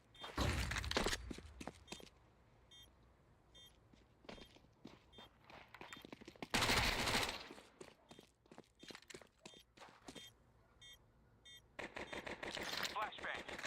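Video-game combat with a flashbang grenade going off and bursts of gunfire: loud broadband blasts near the start and middle, a scatter of sharp shots and clicks between them, and busier firing toward the end.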